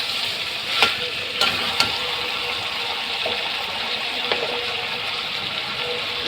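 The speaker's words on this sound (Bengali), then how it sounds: "এবারে আমি মাংসটা ঢেলে দেব দেখো কীভাবে মাংস রান্না করছি" Meat sizzles steadily in a hot pan for a lightly spiced home-style curry, a constant close frying hiss broken by a few sharp clinks and spatters.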